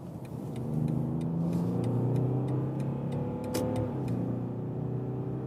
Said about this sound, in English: that was 70 to 120 kilometers an hour acceleration